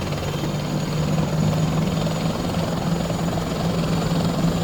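Bell 412 helicopter engines spooling up in the Prepar3D flight simulator, a steady whining turbine and rotor drone with a low tonal hum, loud and continuous without any talk.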